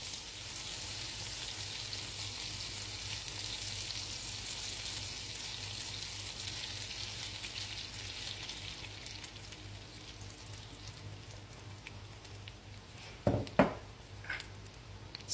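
Honey lemon sauce sizzles steadily in a frying pan, a continuous soft hiss with a few louder clinks or stirs near the end.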